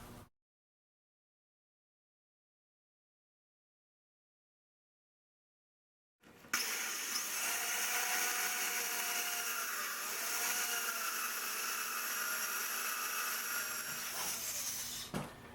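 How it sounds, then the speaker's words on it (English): An electric drill bores angled holes into a wooden wheel hub for a wheelbarrow planter, a steady whine running for about nine seconds after a long silence, loud and close, with slight pitch shifts as the bit loads. "Now I'm going to drill the alternate 4 holes to the left of center, and this time angling the drill so the spokes tilt inwards."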